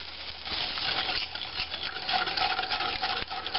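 Stirring a roux with evaporated milk in a pan, close scraping and swishing strokes with light clinks of the utensil against the pan, continuous and alone.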